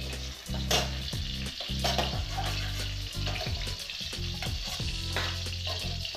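Eggplant and potato fry in oil in a wok, making a loud, continuous crackling sizzle with repeated stirring scrapes and a low steady hum beneath, with no voices.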